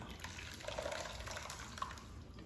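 Coconut milk strained from grated coconut flakes, a soft, steady trickle of liquid running through a filter with faint splashing, close and quiet, with no speech.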